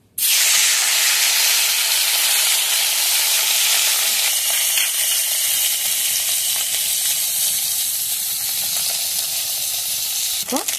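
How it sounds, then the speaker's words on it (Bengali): Small river fish sizzle and spit as they fry in hot oil in a wok, a loud, steady hiss that keeps going through the whole stretch with faint crackles near the end. "মাছটা কি ভাজার জন্য দিয়ে দিচ্ছি"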